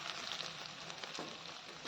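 Chital fish balls for a traditional Bengali muitha recipe fry in oil, giving a steady, fairly quiet sizzle that runs unbroken for two seconds, with a few faint pops and one small spike near the end.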